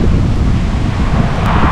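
Strong wind roars across the microphone of a rider on a motorcycle road trip in Turkey, a loud, constant buffeting rumble that fills the whole moment with no speech.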